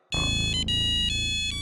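A mobile phone ringtone rings loudly and steadily as a bright repeating electronic melody, starting abruptly and continuing without a break, with no voices over it.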